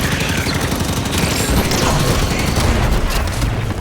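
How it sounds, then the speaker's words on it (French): Sustained heavy gunfire fills a Halo 5 battle, dense rapid shots and blasts layered into a constant loud barrage with no pauses, as if under fire from a Warthog's passenger seat. "On reçoit des tirs sur le siège passager."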